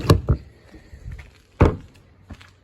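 The exterior storage compartment door on a 2022 Salem Hemisphere 310BH travel trailer is handled, giving a few close, sharp thunks and knocks spread over a couple of seconds with softer rattles in between.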